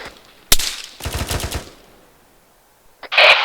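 Gunfire aimed at a player's position during a PvP attack/defense drill: a sharp single crack, then a rapid automatic burst, a pause, and another loud burst, all close and with no talk.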